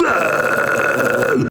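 A short, harsh, raspy false cord vocal scream with a gritty, buzzing texture is held for about a second and a half, then cuts off abruptly.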